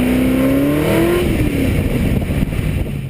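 A Cobra sports car engine revs and drones loudly up close, its pitch rising then settling into a steady rumble with rough low-end noise.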